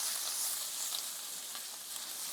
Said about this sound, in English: We're going to grab a little bit of the pancetta. Okay, we're going to throw it in.